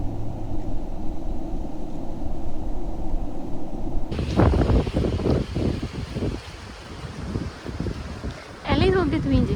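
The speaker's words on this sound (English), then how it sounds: "A little bit windy here, just a little bit." Gusty wind storm buffets the microphone at an off-road campsite in Baja, Mexico, in a steady broadband roar, with a louder burst of clattering noise about halfway through and faint voices underneath.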